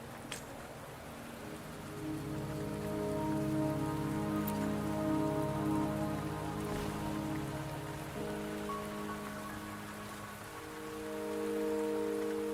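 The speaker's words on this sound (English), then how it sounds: "Don't worry, the rain won't last much longer." Steady rain falls in the video game Wuthering Waves, a dense soft hiss of drops on surfaces lasting throughout, layered under a calm sustained music bed with no speech.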